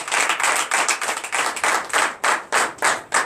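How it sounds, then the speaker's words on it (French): A church congregation at a Sunday service in Comè, Benin claps loudly in acclamation, a strong rhythmic beat of many hands striking together in regular pulses, close and alone without talk. "Donnez l'acclamation à notre Seigneur."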